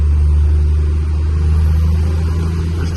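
A Cummins diesel crew cab pickup pulls hard in fourth gear, its deep engine drone steady and loud up close with constant low rumble throughout and no talk.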